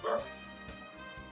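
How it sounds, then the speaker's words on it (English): A dog in a house gives a short muffled bark, followed by faint whimpery yips, quiet and somewhat distant from the microphone. "you might hear the barking of the new dog in the house."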